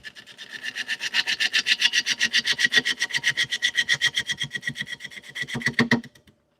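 Cherry wood spinning on a lathe against a tilted roughing gouge gives a steady, rapid rhythmic rasping scrape, loud and close, running continuously for several seconds before stopping abruptly.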